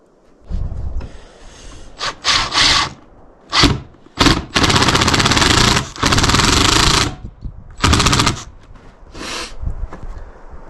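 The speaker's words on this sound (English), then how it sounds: "And then we'll drill the holes, and then we'll put the screws in." Short bursts of a power drill driving screws into wood while building a Layens horizontal beehive whir on and off, some quick and some held for a few seconds, close by with brief pauses between.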